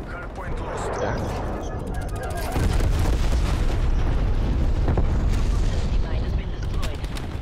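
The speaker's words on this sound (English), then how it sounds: "Napalm strike incoming." Napalm strike explosions in the Call of Duty Cold War video game, in a heavy rumbling roar of booms and bursts that swells and stays loud throughout, with a voice talking over it.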